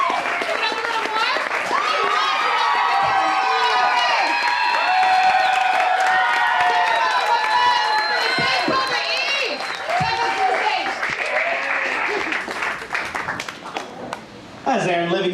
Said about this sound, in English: Keep your applause rolling.